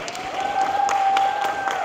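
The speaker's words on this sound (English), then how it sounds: "Give us a hand to Jordan. Clap him up." Short burst of audience applause at a student empowerment keynote, fairly close and steady, with a sustained whistle-like tone sounding through it.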